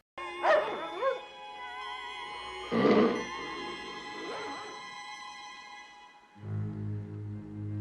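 A dog whimpers and yips in a few short, high-pitched bursts, followed by a lower whine, close and plaintive with pauses between.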